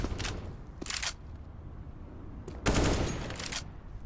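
Bursts of Counter-Strike gunfire as a player pre-fires spots on a map, short rapid volleys separated by pauses, with a longer sustained burst near the end.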